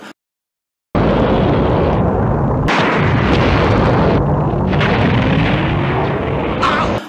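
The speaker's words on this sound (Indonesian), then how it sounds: "hingga akhirnya Janemba membuat sebuah ledakan yang sangat dahsyat" A huge, booming Dragon Ball Z cartoon explosion erupts after a brief silence, roaring on loudly with crackling bursts and a rising whine near the end.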